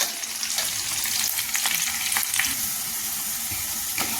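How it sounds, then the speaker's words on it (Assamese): Onions sizzle and crackle in a hot pan, frying until golden brown, with occasional stirring scrapes, a steady frying hiss with no one talking. "মই পিঁয়াজখিনি ৰঙচুৱা হোৱালৈকে ভাজি লৈছোঁ।"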